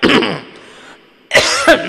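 Two bursts of throat clearing, a rough hacking sound at the start and again near the end, with a quiet pause between.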